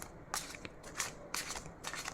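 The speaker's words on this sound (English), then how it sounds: "I'm going to shuffle the cards" Tarot cards being shuffled nearby, several short riffling bursts in an irregular rhythm with quiet pauses between.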